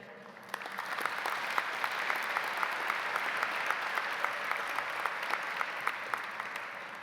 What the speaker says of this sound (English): Let's give a big round of applause to everyone who's been a constant source of support for us in this journey.